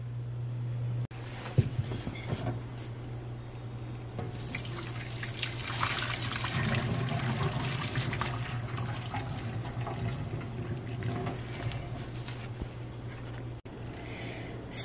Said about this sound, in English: I'm going to rinse this with cool water